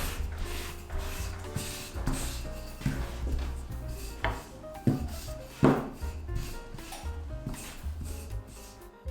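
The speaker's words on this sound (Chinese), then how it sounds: "用擀面杖直接摊平" Rolling pin working half-risen dough flat on a board dusted with dry flour, giving soft rubbing and rolling thuds with a few sharper knocks, close and steady throughout.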